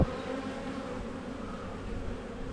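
Honey bees hum in a steady, dense drone while a hive is opened in spring, the swarm buzzing close and continuous with no voices.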